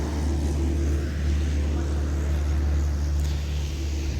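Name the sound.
tractor driving past toward the tea estate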